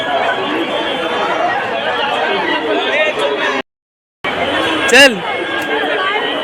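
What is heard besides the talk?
crowd pushing in the darshan line at Lalbaugcha Raja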